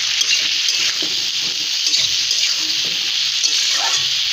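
Cauliflower pieces coated in turmeric fry in hot oil over high heat, giving a loud, steady, unbroken sizzle close by, with a few faint pan scrapes and no speech.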